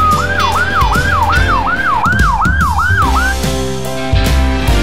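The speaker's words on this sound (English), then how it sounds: "This is ambulance van." Ambulance van siren sounding close and loud, a rapid repeating yelp cycling about eight times before stopping, over steady engine and road noise.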